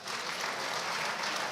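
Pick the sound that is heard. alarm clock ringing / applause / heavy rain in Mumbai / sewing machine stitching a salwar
applause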